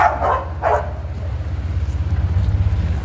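Dogs bark twice in quick succession at the start, fairly close and loud, then give way to a steady low outdoor rumble with no further barking.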